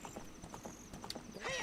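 Epona the horse trotting in Ocarina of Time, a quick rhythmic clip-clop of hooves in steady succession, ending in a brief whinny-like call.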